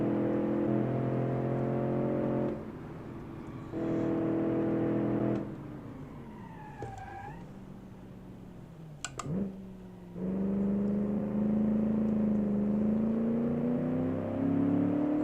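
Simulated 1980s car engine in BeamNG revving hard at full throttle, a loud droning tone climbing in pitch through repeated surges, dropping off briefly in the middle before roaring back up.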